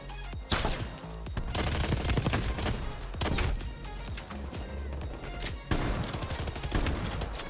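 Dense, loud video-game gunfire from Black Ops Cold War, with repeated heavy shotgun blasts and rapid shots in a near-continuous barrage and no talk.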